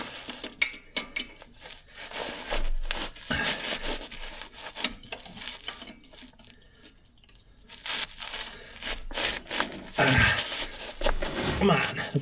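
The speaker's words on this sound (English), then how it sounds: "let's take a pair of pliers on here and see if we can get this filter out." Pliers gripping and working a tight oil filter loose on a quad bike, close scraping, creaking and rubbing in bursts with a quieter pause in the middle and someone talking.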